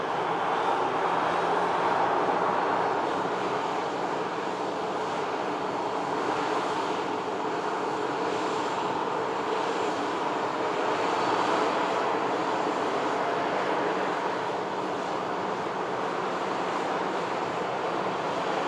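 A TUI Dreamliner jet rolls for takeoff at Manchester Airport, a distant, steady broadband roar that holds evenly throughout with no voices.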